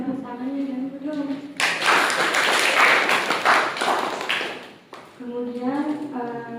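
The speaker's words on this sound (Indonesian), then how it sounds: "Tepuk tangannya" A class bursts into applause after a research presentation, a dense, fairly loud wash of clapping that lasts a few seconds between stretches of a speaker talking.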